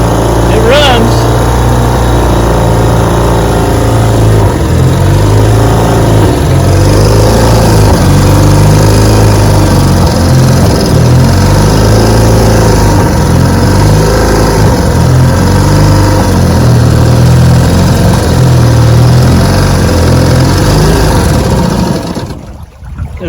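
A 1954 Gale Buccaneer outboard boat motor runs loud and close for about twenty seconds, its pitch surging up and down unevenly like a rough-running engine, then it fades and quits near the end.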